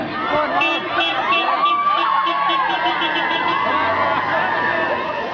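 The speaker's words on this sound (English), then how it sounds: "They're having a good time, they're cheering, they're making the most of it." Students cheer at a 2012 British Columbia protest, a loud crowd of whoops, shouts and excited voices swelling together close by for about five seconds.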